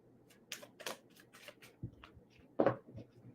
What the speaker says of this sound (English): I got a nice fresh shuffle for Capricorn.